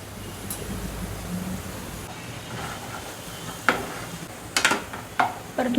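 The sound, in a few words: onion, green chili and ginger-garlic paste sizzling while sautéed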